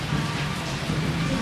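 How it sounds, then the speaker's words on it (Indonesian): Steady rain falling, a continuous, fairly loud broadband hiss that holds evenly throughout with no clear breaks or individual drops standing out. "Hujan, Bu."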